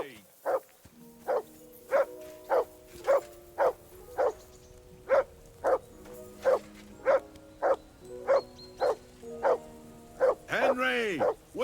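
A dog in the video game Kingdom Come Deliverance II barks in a steady, evenly spaced series of about seventeen short barks, clear and moderately close, with a brief voice at the very end.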